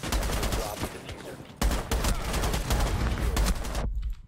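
Gunfire crackles in a shooting video game as dense, rapid bursts of shots come in two long volleys with a brief gap between them, then cut off abruptly.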